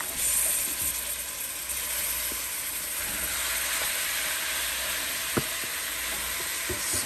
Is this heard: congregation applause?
no